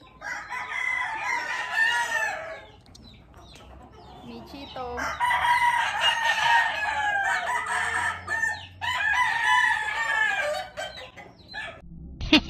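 Roosters crow loudly in repeated long calls, three main bursts with short pauses between, and a brief spoken word near the start.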